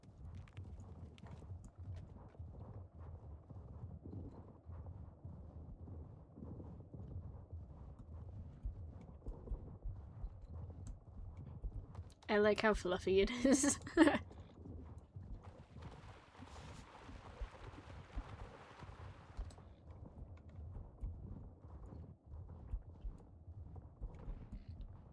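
Hoofbeats of a horse ridden in the online game Star Stable, a soft steady clip-clop running under the background with a brief louder burst midway, while a person talks at times.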